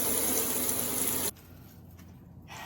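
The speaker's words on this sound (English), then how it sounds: "We're just gonna get some nice water on there and scrub it everywhere to make sure all the dirt is off." Harvested lemongrass stalks rinsed and scrubbed under a strong stream of running tap water, a loud steady gush that cuts off abruptly partway through, leaving a quiet room with a faint trickle.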